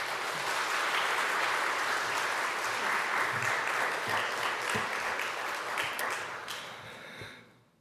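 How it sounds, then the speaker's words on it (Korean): A church congregation applauds to welcome the pastor, a full, even wash of clapping for about seven seconds that fades out at the end. "목사님 나오실 때 우리 따뜻한 환영의 마음을 담아서 따뜻하게 박수로"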